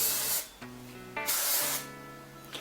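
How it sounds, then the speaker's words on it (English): Two long bursts of aerosol hairspray hissing close by, separated by a brief pause, with faint background music underneath. "And then I'll take my hairspray."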